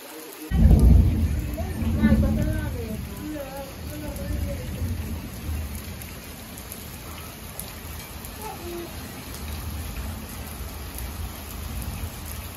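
Heavy rain pours steadily in a village during a flood, a constant broad hiss with a low rumble and a louder gust near the start, while a person talks over it early on.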